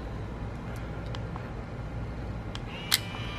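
A single sharp mechanical click as the shutter of an instant camera is pressed to eject the film cover, near the end of a quiet stretch with low background hum.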